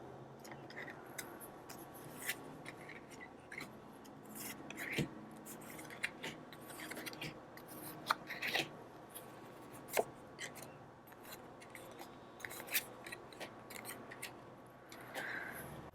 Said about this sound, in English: let's pull out the rest of these cards over here.